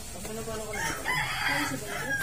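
A rooster crows once, close and loud, its call rising and then trailing off against faint background noise.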